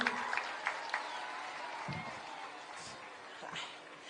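A crowd applauds Kenyan minister Aisha Juma at a public address, a moderate, fairly distant wash of clapping that holds steady with a few sharper claps and some voices underneath.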